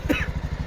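A motorcycle engine running, probably idling, with a quick, even putter of firing pulses throughout a very short moment, close and fairly loud.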